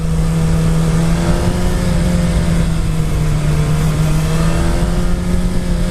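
A 2019 Suzuki Hayabusa motorcycle engine held in first gear, a loud, steady droning hum at near-constant pitch with rough low rumble underneath, recorded close on a ride.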